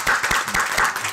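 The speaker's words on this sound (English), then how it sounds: "We're clapping" A small group in a talk session claps together in a short burst of a few quick, close claps with no voices.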